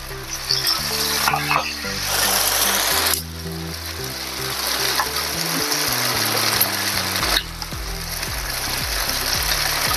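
Potato and rice flour snacks frying in hot oil, a loud, dense, continuous bubbling sizzle that holds steady for about ten seconds, heard close up with no talking.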